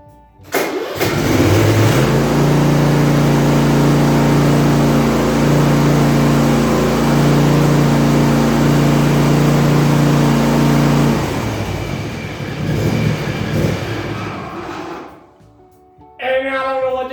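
An old engine on half choke starts with a crank and settles into a loud, rough, throbbing run close by, then drops away near the end and briefly picks back up.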